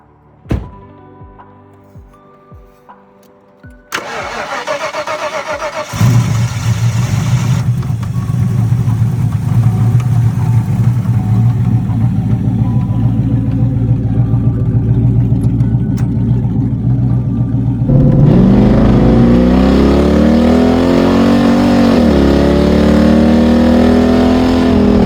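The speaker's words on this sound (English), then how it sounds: "I got both the headers on, so we're gonna go ahead and do a startup" A Ford Foxbody Mustang fitted with shorty headers cranks over after a few clunks, catches loudly and settles into a rough, throaty idle, then revs up near the end with rising engine sweeps.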